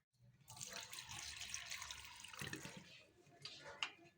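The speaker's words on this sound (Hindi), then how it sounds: "अब मैं इसके अंदर पानी शिफ्ट करूँगी।" Filtered water pours into a jar of black carrot kanji, a steady splashing stream that runs for several seconds, fairly quiet and with no talking.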